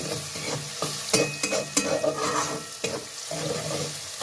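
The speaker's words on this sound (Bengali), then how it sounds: "সবগুলো একটু ভালো করে ভেজে নিই।" Vegetables and spices with turmeric powder sizzle in a pan for vegetarian mung dal, while a spoon scrapes and stirs in irregular strokes over a close, steady frying hiss.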